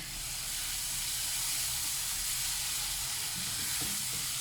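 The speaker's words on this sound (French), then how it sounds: "Et je vais mettre la marinade des crevettes. Juste à mijoter 2 petites minutes." Shrimp marinade sizzles in a hot pan, a steady, close frying hiss with faint bubbling that stays constant throughout.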